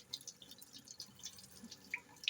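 Warm water trickles and drips into a kitchen sink fitted with a drain strainer, small splashes and droplets tapping close by at a low, steady level with no voices.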